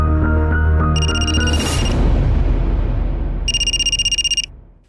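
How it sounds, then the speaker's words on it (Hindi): A telephone rings twice in short, trilling bursts over background music that fades out at the end. "अरे उन्हीं का फोन है।"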